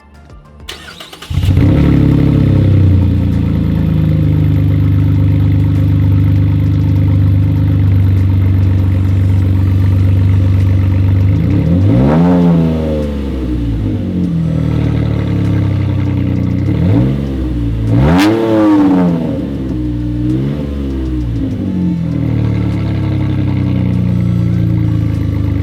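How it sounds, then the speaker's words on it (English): A 2017 Chevrolet Colorado engine cranks and settles into a loud, raw idle, then revs sharply twice through an open straight-pipe exhaust with a deep, barking tone. "that straight pipe sounds really good"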